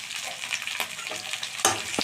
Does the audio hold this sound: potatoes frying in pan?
yes